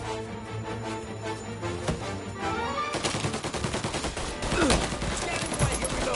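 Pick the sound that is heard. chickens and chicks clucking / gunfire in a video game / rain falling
gunfire in a video game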